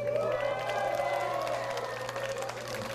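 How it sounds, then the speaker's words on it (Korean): A crowd applauds at a youth football award ceremony, with steady, fairly distant clapping and faint cheering running throughout while a low hum sits beneath. "발표될 때마다 많은 격려의 박수를 부탁드리겠습니다"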